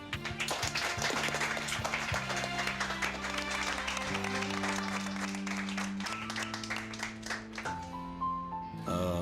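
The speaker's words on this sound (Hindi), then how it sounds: "बहुत सारी तालियां" Applause rises over loud, sustained background music in a dubbed TV drama scene, clapping mixed beneath layered chords and percussion rather than standing alone.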